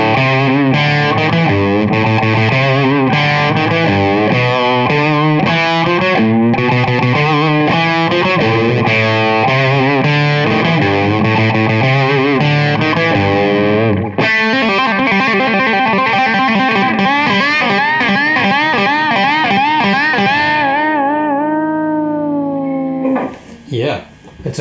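A modded Les Paul electric guitar played loud through an amp with a distorted classic rock tone, sustained bent notes and riffs ringing out before a brief handling noise at the end.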